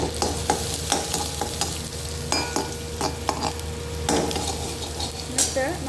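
Chopped onions sizzle and fry in a pan for homemade chicken fried rice, with steady crackling under repeated stirring and utensil scrapes and clinks close by.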